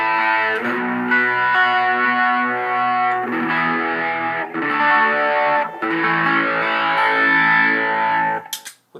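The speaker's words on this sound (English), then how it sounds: "So now I'm back on the Digitech Hotrod with the mild distortion." Electric guitar played through a Digitech Hotrod pedal on a mild distortion setting, loud and close, with sustained overdriven chords and phrases in several bursts separated by brief pauses, ending abruptly.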